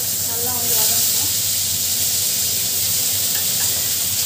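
Garlic and onions sauté in a hot pan for a chicken pepper curry, giving a steady broad sizzle and hiss throughout, with a faint voice talking underneath.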